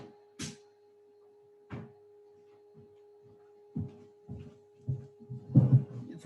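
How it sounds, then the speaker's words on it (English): A room door opens at home with a few soft, scattered clunks and knocks, quiet against a steady electrical hum. "I'm gonna open my door"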